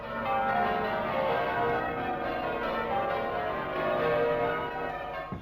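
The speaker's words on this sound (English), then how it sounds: "houses the largest carillon in Britain, 4 octaves of 48 bells" A carillon of 48 bells spanning four octaves, the heaviest weighing 4.5 tons, rings out over Union Street, with layered bell tones sustained steadily and resonant throughout.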